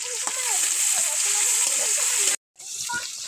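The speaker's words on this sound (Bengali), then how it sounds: "তো পেঁয়াজটা ভাজতে নিচ্ছি" Chopped onion frying in oil in a kadai, a close, bright, steady sizzle with soft stirring, briefly cutting out near the end before resuming.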